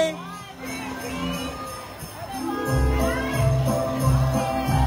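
A crowd of fans shouts and cheers at a mall fan event in SM City Iloilo, a loud, steady wall of voices that swells and stays dense through the second half.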